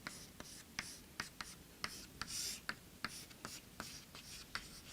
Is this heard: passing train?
no